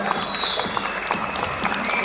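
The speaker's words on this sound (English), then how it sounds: "Give a big round of applause." Applause from an audience at a cinematography session honouring a cinematographer, a continuous bed of clapping from many people with a faint tonal hum running underneath.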